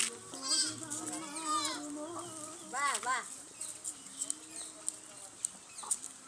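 Native breed goats and their kids bleating on a farm, several calls close by with rising and falling cries, mixed with a clucking hen and people talking nearby.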